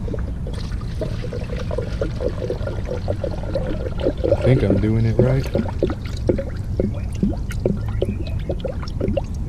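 Coolant trickles and glugs into a car radiator during a coolant-leak repair, a steady pouring with bubbling gurgles partway through, heard close up beneath a man's spoken remark.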